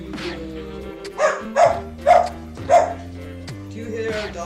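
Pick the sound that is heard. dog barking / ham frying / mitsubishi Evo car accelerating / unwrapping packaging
dog barking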